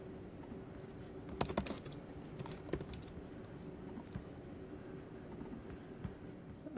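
Typing on a computer keyboard, faint clusters of light key clicks in an uneven rhythm over a low hum, quiet and close.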